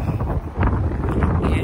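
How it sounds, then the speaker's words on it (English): Strong wind at an outdoor park buffets the microphone with a steady, loud rumbling roar, broken by brief gusty surges and no clear talk. "I was trying to talk to y'all while I was outside, but it's like super windy."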